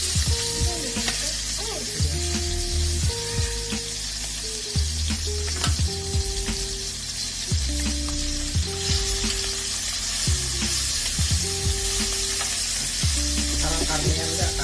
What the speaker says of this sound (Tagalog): magpiprito siya ng palakaing legs yung malalaki